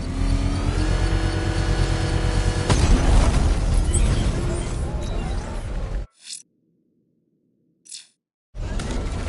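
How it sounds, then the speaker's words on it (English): Controlled bomb blast set off with a power winch in the Batman: Arkham Knight video game: a loud, sustained roaring rumble with engine-like revving, then abrupt silence broken by two brief bursts before the roar returns. "I can use the power winch to trigger a controlled explosion."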